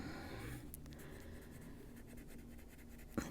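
Faint, close scratching of a Chromaflow colored pencil coloring on paper, with short repeated strokes and a small tap near the end.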